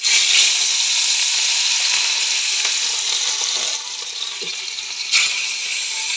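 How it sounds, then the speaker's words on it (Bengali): Pieces of rohu fish fry in hot oil in a wok, a loud continuous close sizzle with faint scraping and a brief sharp pop near the end. "এখন আমি মাছগুলো এক এক করে ভেজে নেব।"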